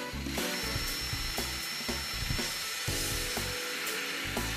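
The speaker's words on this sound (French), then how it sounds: "Ils sont montés à l'aide de vis taraudeuses que vous vissez directement dans les profilés en aluminium." Self-tapping screws driven straight into aluminium terrace profiles with a power driver, giving repeated whirring, ratcheting bursts of the driver as each screw bites into the metal, close and steady with no talk.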